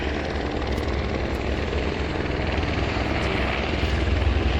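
Helicopter near the Kedarnath helipad in Uttarakhand, a loud continuous rotor thump and turbine roar filling the air at close range, steady throughout with no voices.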